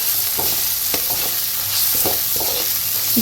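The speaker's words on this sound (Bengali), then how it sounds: "সবটাই একটু ভালো করে মিক্স করতে হবে একটু কষিয়ে নিতে হবে" Spices with chilli powder and salt for dal are stir-fried in a pan, a steady sizzle under repeated scraping strokes of a spatula, close and fairly loud, with no talk.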